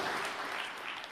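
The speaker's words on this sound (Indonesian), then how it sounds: "Berikan tepuk tangan yang meriah buat Tuhan." Congregation clapping during a church sermon, a dense, steady wash of applause lasting about a second at low level, with no voices over it.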